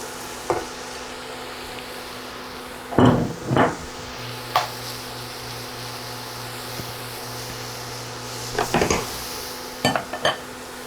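Onion and leek cooking in foaming butter in a pan, a soft sizzle under occasional sharp clinks and scrapes of a utensil against the pan.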